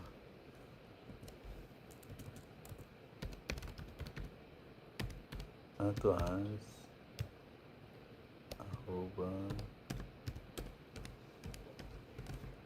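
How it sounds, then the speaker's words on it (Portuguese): Soft clicking keystrokes on a notebook computer keyboard, tapped in irregular bursts at close range, with someone briefly talking twice in the middle. "Fico com dó de apertar o teclado do notebook"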